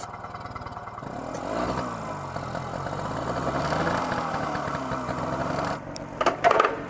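Japanese motorcycle engine just out of a shipping container, cranking and catching into a faint, uneven idle with light revving, followed by a few louder clatters near the end.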